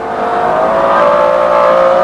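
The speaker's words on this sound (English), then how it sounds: "It just goes on accelerating, accelerating and accelerating." A McLaren V12 supercar with 627 horsepower accelerates hard on the Goodwood racetrack, its engine note a loud, sustained, steadily rising roar that carries on without a break.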